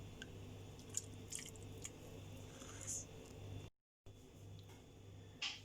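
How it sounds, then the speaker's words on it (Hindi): Raw chicken being mixed by hand with rice water for Hyderabadi white biryani gives soft, quiet squishing and wet sloshing sounds with a few sharper splats, close and faint over low background hum. "ये हमने वो चावल का पानी डाल के इसको अच्छे से मिक्स कर लिया।"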